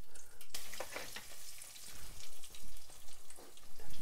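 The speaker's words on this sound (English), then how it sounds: "Time to fry up our mushrooms, our magic mushrooms." Eight ounces of mushrooms fry in a pan for a low-carb fish dish, giving a steady, close sizzle broken by spatula stirring and crackling pops, with no talk.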